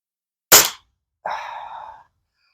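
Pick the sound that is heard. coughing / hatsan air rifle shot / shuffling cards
hatsan air rifle shot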